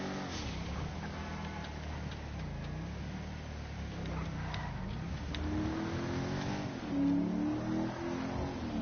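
A sports car engine in the video game GTA Online revs and accelerates, its pitch rising and falling through several pulls, with a brief high whine near the end, moderately loud with no talking.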